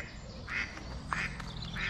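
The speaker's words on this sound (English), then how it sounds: "Ducks are out in force, making some noises" Ducks at a calm fishing lake in the morning give three clear, moderately distant quacks spaced evenly over a quiet outdoor background.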